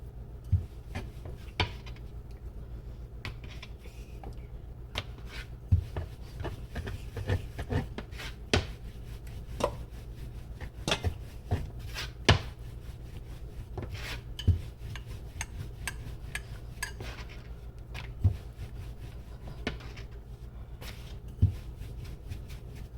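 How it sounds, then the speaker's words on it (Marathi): A rolling pin works chapati dough on a board with soft, repeated rubbing and scraping strokes, close and steady throughout, with faint light knocks of the pin between passes and no one speaking. "त्याला अशी छानपैकी कडेकडेने लाटून घ्यायची"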